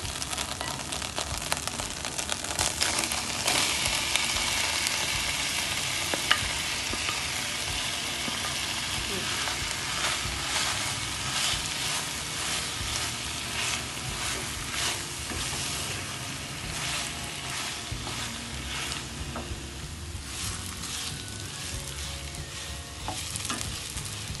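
Elephant apple (chalta) pieces fry and get stirred in a pan with spiced oil for pickle, a steady close sizzle with scraping spoon strokes throughout, no talking.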